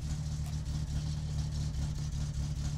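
A car engine running with no muffler in the driving game My Summer Car makes a steady, loud, raw rumble that holds a constant drone throughout with slight fluctuations and no talking.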